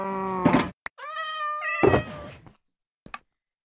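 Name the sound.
cat meowing in Minecraft Skyblock video game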